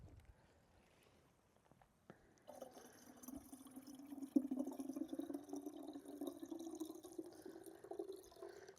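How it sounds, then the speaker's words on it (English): Water soaked with fruit peels is poured into a jar for plant feed: after a quiet start, a steady trickling pour begins, its tone rising gently as the jar fills. "I'm just going to pour the water into this jar"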